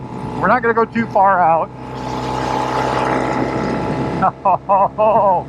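Norton Commando Combat 750 motorcycle ridden hard through third into fourth gear, its engine roaring loudly and steadily for a few seconds at mid-clip, with a rider speaking before and after.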